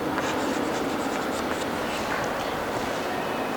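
Marker or chalk scratches rapidly across a board while loop code is written out during a programming lesson, a dense continuous scraping close to the mic.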